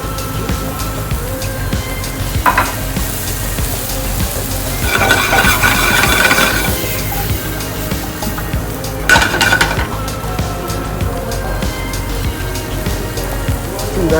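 Salmon is pan seared alongside sautéed steamed vegetables, with utensils clattering against the pan and a light sizzle rising in two louder bursts over a steady kitchen background. The cooking plays on its own, with no talking.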